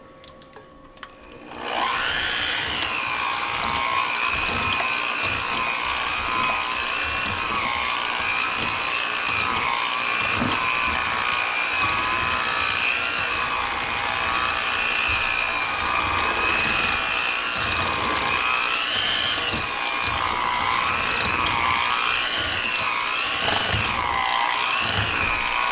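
An electric mixer whirs continuously through pound cake batter, starting with a quick spin-up and then holding a loud, steady whine with slight wavering pitch as it runs close by.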